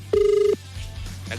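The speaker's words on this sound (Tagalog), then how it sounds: "Nagri-ring na." A single short electronic telephone ring, steady and tonal, sounds close and clear for about half a second and then stops, leaving low background hum and faint studio noise.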